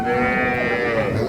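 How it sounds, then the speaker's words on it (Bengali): A dairy cow at a cattle market in Dinajpur lows in one loud, sustained, close moo that fills the whole moment. "আমবাড়ি হাটে যে দুধের গাভী বাছুর প্রায় বিক্রয় করা হচ্ছে"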